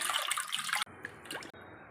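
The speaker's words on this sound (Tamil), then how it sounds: "மில்லட்டு ஃபுல்லாக ஊற்றிக்கிறேன்" Millet milk is poured into a pot of soup, making a brief loud splashing gush followed by quieter trickles and drips, close by and without talking.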